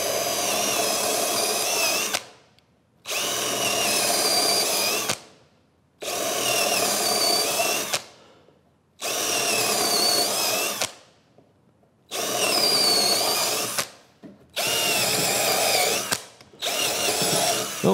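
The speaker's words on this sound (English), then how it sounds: "I'm going to go back with my drill again now, just to get down this edge" A power drill whirs loudly, boring into wood along a workbench edge, in six or seven long bursts of about two seconds each, with short quiet pauses between them.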